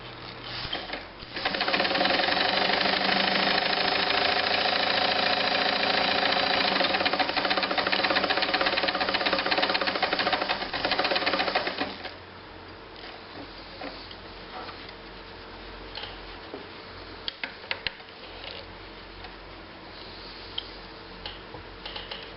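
A Kenmore 158.510 sewing machine stitches at speed with a loud, steady whirring clatter for about ten seconds, then slows to a quieter, uneven run with scattered ticks, close up.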